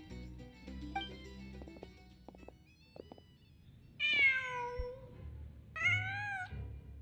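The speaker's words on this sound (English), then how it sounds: "Just a cat." A cat in a video game meows twice, a pair of clear, rising and falling cries set against quiet background game sounds, with the second call arriving about two seconds after the first.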